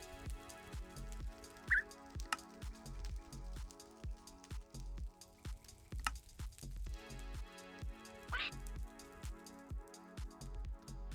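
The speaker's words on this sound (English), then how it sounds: "It's raining." Steady patter of rain in the video game Modern Skyblock 3, under a repeating musical background, with soft drops and a couple of brief chirps, fairly quiet throughout.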